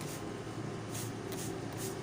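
A sprayer mists a homemade garlic, onion and water insecticide onto plants with small fruits, making a steady close hiss with a few slightly stronger pulses.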